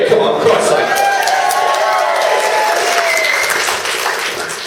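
Wedding guests cheer and applaud in a reception room, a loud burst of clapping and whooping that stays dense and then eases slightly toward the end.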